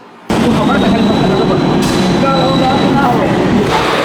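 A train rumbles steadily at Sealdah railway station, with loud continuous rolling noise and clatter filling the space close by, starting abruptly and holding constant throughout.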